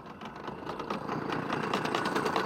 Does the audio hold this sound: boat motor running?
yes